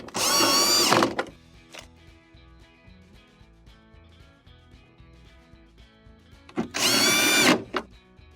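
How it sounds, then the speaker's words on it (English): A power driver runs screws into the cover of a GE refrigerator during a defrost heater repair. Two loud bursts of whirring are separated by several seconds of quiet handling clicks. "install the 2 screws that hold the cover on"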